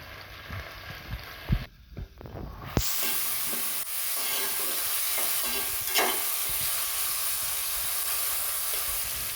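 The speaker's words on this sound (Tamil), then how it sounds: "வெங்காயம் கொஞ்சம் நல்லா வதங்கட்டும் வெங்காயம் வதங்கிடுச்சு" A steady frying sizzle and hiss from onions sautéing in a hot pan, with a few stirring scrapes and clatters near the start.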